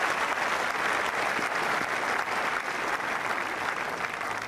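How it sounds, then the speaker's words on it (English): Sustained crowd applause at Wimbledon after a wheelchair doubles point in a final, a continuous thick wash of clapping heard from the stands. "We're clapping that in here."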